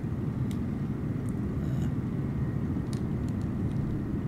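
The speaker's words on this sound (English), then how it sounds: "Little Airbus doing a bunny hop." An Airbus airliner landing at St Maarten's Princess Juliana International Airport makes a steady, distant low roar that holds evenly throughout, with no talk.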